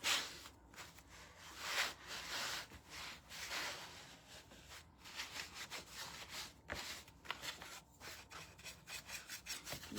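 Rubbing and scraping of a cloth or abrasive over milk-painted rustic wooden sconces to distress the finish, with steady, close scratchy strokes repeating throughout.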